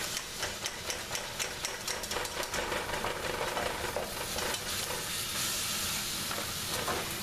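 Ground meat for a queso dip sizzles in a hot pan while a spatula stirs and scrapes it, with steady frying hiss under regular clanking scrapes, close and loud, and no talking.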